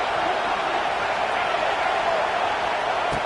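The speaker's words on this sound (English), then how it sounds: "This crowd is trying to inspire this defense to make a big red zone stop." A football stadium crowd roars steadily during a red zone defensive stand in a UNC versus Kentucky game, a dense, continuous wall of cheering noise with no breaks and no talk over it.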